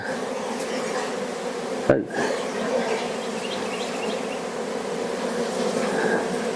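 Dense, steady buzzing of many bees swarming close by at a horizontal beehive damaged by hive beetles, a continuous droning hum with a brief bump partway through.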